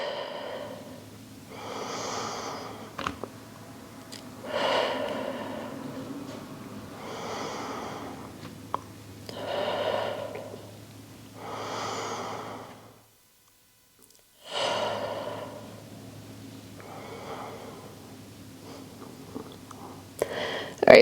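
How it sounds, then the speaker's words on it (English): Slow deep breathing during an upper-body Pilates reformer session, with long audible inhales through the nose and exhales through the mouth repeating in a steady rhythm, close and soft, with a brief pause of near silence midway. "We're taking a deep inhale through the nose, exhale through the mouth."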